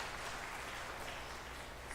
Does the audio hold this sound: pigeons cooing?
no